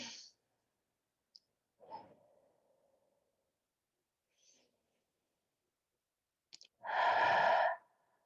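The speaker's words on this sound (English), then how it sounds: "Breathing in heavily and breathing out" Deep breathing in and out during a yoga session: faint, slow inhales and a loud, drawn-out exhale close to the microphone, with no talking.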